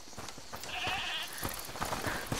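Goat bleating in A Plague Tale: Requiem, a wavering bleat heard at moderate distance over continuous game ambience, with no talk during the call.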